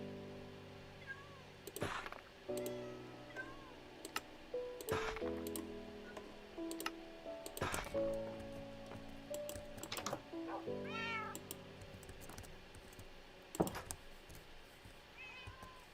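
A cat in the Minecraft video game meows several times at irregular intervals over quiet background clicking, each call short and fairly clear.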